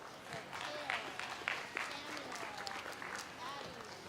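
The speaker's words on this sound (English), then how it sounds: "let's give our second class of meat goat exhibitors a big round of applause" Spectators at a county fair 4-H/FFA livestock show applaud a class of meat goat exhibitors, fairly faint, scattered clapping with a few sharper claps standing out, heard at a distance in a large open arena.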